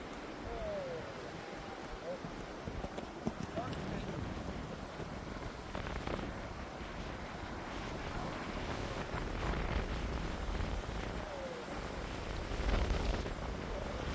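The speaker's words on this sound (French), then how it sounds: "il y a des coups de vent" Gusty wind buffets the microphone outdoors during a horse training session, a steady roaring rush swelling in a few stronger surges, with faint outdoor noise underneath.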